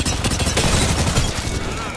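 Dense gunfire in a team shooter video game, a continuous rattle of rapid shots with booming hits, loud and close for the whole stretch, with a voice faintly mixed underneath.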